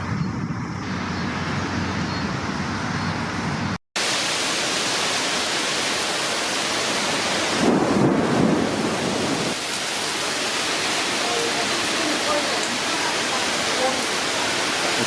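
A severe thunderstorm in Kansas City roars with strong wind and heavy rain, a dense, loud, continuous rush close to the mic with a brief dropout partway, and no clear talk.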